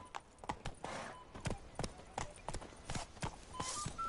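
Geralt's horse Roach gallops in The Witcher 3, hoofbeats thudding in quick regular clip-clop beats at moderate distance, with faint background game sounds.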